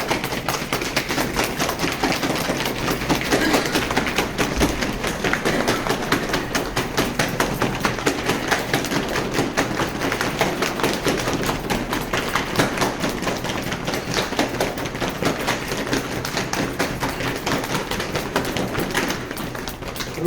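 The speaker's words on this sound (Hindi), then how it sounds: "अब हम चलते थपकी थेरापी। ये वाला को थपकी थेरापी।" Rapid patting and tapping of hands on the body during thapki therapy, a continuous dense stream of soft thuds and slaps at steady loudness for the whole stretch, with no speech.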